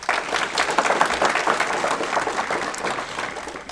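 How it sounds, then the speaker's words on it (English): Steady applause from an audience at a county board of education meeting, a dense wash of clapping that holds at an even level throughout. "Please give her a round of applause."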